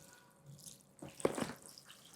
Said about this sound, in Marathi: आता या भिजवलेल्या डाळी पुन्हा एकदा स्वच्छ पाणी घालून धुवून घ्यायच्या.